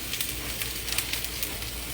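Sweet onion sizzles in a hot pan, a steady close frying hiss with small crackling pops scattered throughout, no voices over it.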